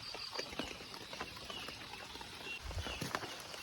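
Rain falls steadily on a tarpaulin over an overnight camp, a dense, continuous hiss close by. A few sharper drips and a low thump stand out near the end.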